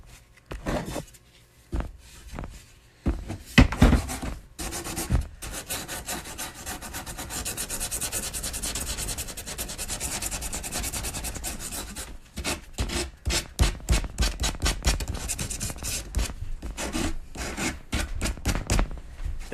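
A prop for a Soldier 76 build is worked with 80 grit sandpaper, giving loud, close, rhythmic rasping strokes, some in quick separate scrubs and others in a long continuous stretch of rubbing, with no voices.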